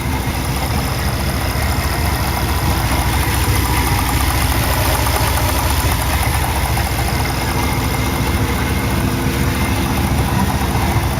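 A 1988 Chevrolet Monte Carlo SS with T-tops, swapped to an LT1 350 V8, idles close by with a loud, steady, even rumble and constant mechanical vibration, uninterrupted and with no talking.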